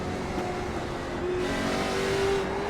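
A late model race car engine at Slinger Speedway drones and revs steadily, its pitch climbing slightly toward the end, loud and continuous without voices.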